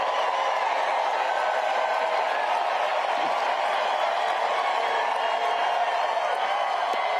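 A large crowd at a Harris-Walz rally in Arizona keeps up a continuous, steady roar of cheering and clapping, dense and unbroken throughout.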